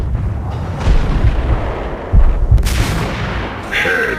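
Booming gunshots from the Max Payne video game fire in several heavy bursts, loud and close, with sharper cracks toward the end.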